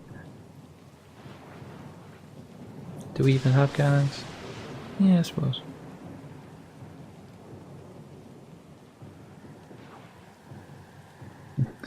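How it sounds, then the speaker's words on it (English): Thunder rumbles and cracks in a couple of sharp bursts over steady falling rain in the Pillars of Eternity II: Deadfire game world, with characters talking under the storm. "Storm's pretty loud"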